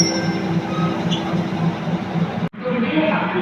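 Passenger train 75 departing Udon Thani station in Thailand, heard from on board as a steady low rumble and hum of the moving carriage, with a brief dropout partway through.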